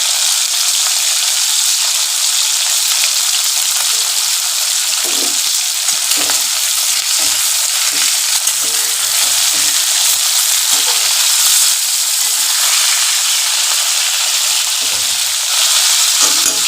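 Katla fish pieces fry in a pan with black pepper, giving a loud, steady hiss of oil that carries unbroken from start to finish, with no voices.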